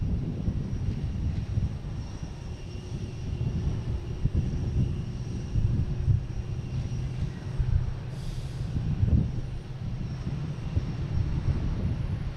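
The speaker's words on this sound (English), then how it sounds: "next to arrive is American Airlines, an A321, coming in from LAX. Landing on, looks like 4 left." An American Airlines A321 arriving from LAX and landing on runway 4 left at Boston Logan, a steady low jet roar heard from the ground at a distance, with no talking.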